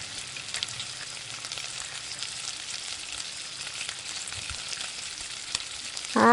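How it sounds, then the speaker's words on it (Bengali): Cumin and dry chili powder frying in a pan, a steady close hiss of sizzling oil with faint occasional stirring ticks, ending in a sudden louder burst. "আর এখন আমি দিয়ে দিলাম জিরা পাউডার, দিয়ে দিলাম সামান্য একটু শুকনো লঙ্কা পাউডার, দিয়ে খুব ভালো করে মিশিয়ে নেব"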